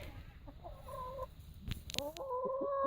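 A noisy rooster beside a chicken shelter built from an IBC water tank calls out with a short cluck, then a longer, harmonic crow, close and clear over faint outdoor background.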